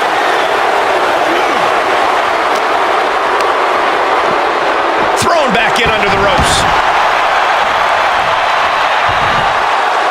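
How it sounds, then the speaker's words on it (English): A loud, dense roar from a wrestling crowd at a deathmatch, sustained and unbroken for the whole stretch, with a commentator talking over it and a few sharp thuds near the middle. "The sound of this crowd is deafening, and he's asking for more"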